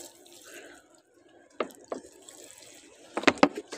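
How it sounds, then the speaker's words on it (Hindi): Water pours into a bottle with a few sharp splashes and drips, the pouring growing louder toward the end, while a plant is being watered. "ऐसे पानी को भरना है। तो फुल बोतल भर दिए"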